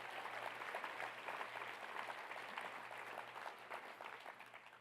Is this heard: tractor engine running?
no